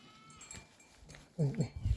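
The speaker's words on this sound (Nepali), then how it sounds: "भेडा भनेको त बाख्रा पो रहेछ।" A herd of black goats on a dusty village trail in Lamjung, Nepal, with a couple of loud, close bleats near the end over quieter outdoor background sounds.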